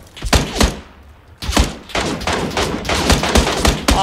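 An MK marksman rifle fires in a PUBG (Battlegrounds) squad match, loud sharp shots in two bursts split by a short pause, then a steady run of rapid close cracks.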